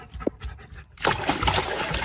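A dog pants and whimpers up close, with wet splashing and sloshing sounds growing louder in the second half.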